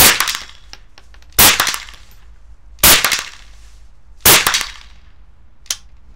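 Marlin Glenfield Model 60 .22 LR rifle shot at a 50-meter shooting range, four sharp cracking reports at roughly even intervals with a fainter fifth pop at the end, no voices heard.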